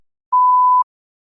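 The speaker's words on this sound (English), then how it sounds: "You may begin to prepare your response after the beep." One clean electronic beep, a steady mid-pitched tone lasting about half a second, alone in silence.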